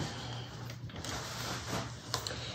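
Sewing machine back stitching along a bag lining, a steady mechanical whir running close and continuous with a few small clicks, no talk over it.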